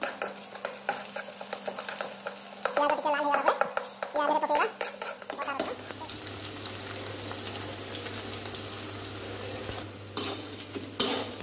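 Onions frying in a pan for a dhaba-style chicken masala, a steady sizzle with stirring scrapes; early on a voice talks over it, then the frying continues loud and alone to the end.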